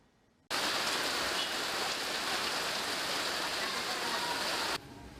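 Steady heavy rain falling over Surabaya, a dense continuous hiss that starts abruptly and holds at an even, loud level for over four seconds before cutting back to a quieter background.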